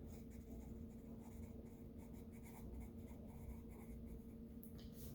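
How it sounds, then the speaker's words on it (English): A pen scratches across paper in close, quiet strokes, soft irregular scribbling continuing steadily for several seconds with no voice. "I'm going to write that down."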